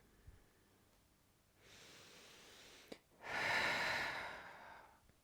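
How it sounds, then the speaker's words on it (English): Slow yoga breathing, a soft inhale followed by a longer, fuller exhale, close and quiet with no speech over it. "So breathing to extend, inhaling to look out, exhaling to look forward."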